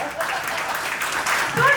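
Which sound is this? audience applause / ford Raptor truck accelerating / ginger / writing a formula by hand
audience applause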